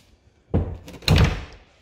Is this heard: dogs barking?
no